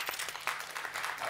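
A studio audience claps at a televised comedy game show, a short burst of dense applause with a few voices mixed in.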